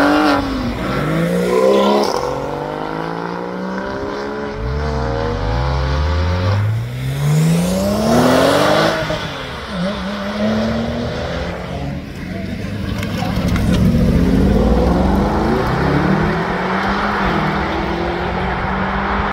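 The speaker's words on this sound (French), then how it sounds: "Petit trio qui part là. Une Dakar, une Maserati et une RS6 assez énervée juste derrière." A Porsche 911 Dakar, a Maserati and an angry-sounding Audi RS6 accelerate away one after another at a sports car meet in the Grand Est: loud, close engine revs rise and fade in overlapping sweeps, with crowd voices in the background.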